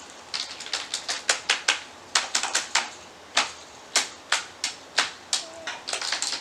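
A baby taps keys on a homemade toy keyboard: sharp, close clicks in uneven bursts, sometimes rapid runs, sometimes spaced single presses, with no talking.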